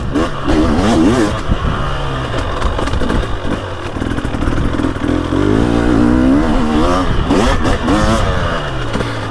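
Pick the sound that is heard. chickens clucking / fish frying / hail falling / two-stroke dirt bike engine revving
two-stroke dirt bike engine revving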